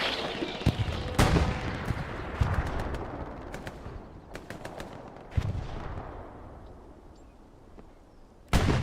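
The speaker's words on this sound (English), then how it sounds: "artillery continues to fall on this border garrison" Hell Let Loose battlefield on a Driel map during a competitive match, with sharp gunshots and scattered rifle and machine-gun cracks plus heavy thumping impacts of artillery falling on a border garrison, some near and loud, others fainter.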